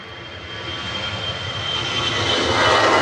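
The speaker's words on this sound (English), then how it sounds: "EasyJet rolling." An EasyJet airliner on its takeoff roll at Manchester Airport gives a broad, roaring jet engine sound that swells steadily louder over a few seconds, heard alone from nearby.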